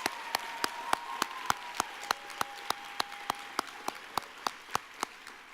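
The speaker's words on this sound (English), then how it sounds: "how about one more round of applause for all three of our Do Good Challenge projects?" Audience applause at the Do Good Challenge finals, heard as sparse, evenly spaced individual claps, faint and rhythmic, with a faint tone underneath.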